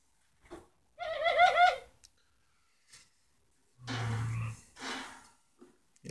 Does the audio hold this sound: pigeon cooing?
yes